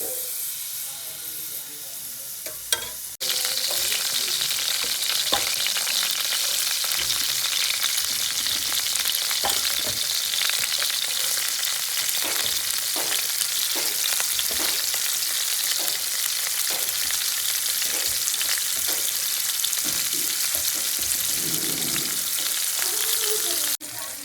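Chicken frying in hot oil, a loud, steady, close hiss and sizzle that starts abruptly after a short quieter opening and runs continuously with light crackles, no talking.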